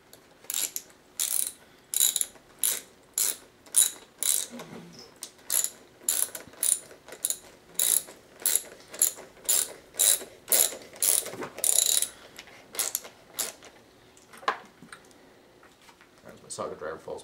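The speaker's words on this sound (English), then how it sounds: "I have clamps that can use a screwdriver or a socket driver." A socket driver ratchets in repeated clicking bursts while tightening clamps on a sword blade, close and crisp, in a steady rhythm of short strokes with a few pauses near the end.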